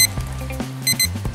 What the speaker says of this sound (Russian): Тут уже пищит сигнал, что ваше время закончилось.